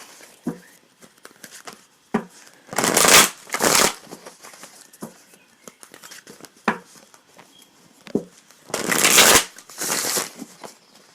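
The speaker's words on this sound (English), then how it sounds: "I'm going to pull some tarot cards for advice" A deck of tarot cards is shuffled up close in several loud riffling bursts, separated by quieter taps and soft handling noises.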